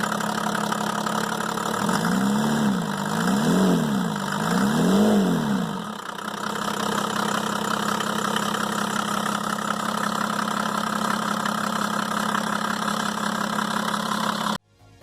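A Mercedes OM606 3.0-liter inline-six diesel with a mechanical injection pump runs steadily and loudly throughout, with a wavering hum early on before settling into an even drone that cuts off near the end.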